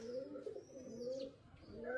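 Pigeons coo softly nearby in a series of low, warbling calls, a few overlapping, with a brief chirp or two and quiet gaps between phrases.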